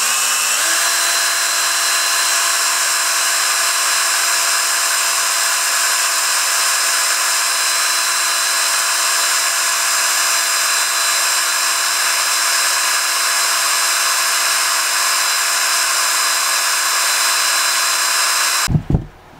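A power drill spins a fishing reel spool to strip off line, a steady high-pitched whine running continuously for nearly twenty seconds before cutting off abruptly.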